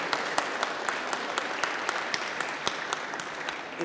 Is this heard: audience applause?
yes